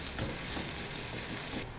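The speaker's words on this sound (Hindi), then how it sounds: "ऑयल में प्याज को हल्का सा नरम कर लूँगी" Chopped onion softening in four to five tablespoons of oil gives a faint, even sizzle, a steady hiss with small crackles that continues without pause for under two seconds.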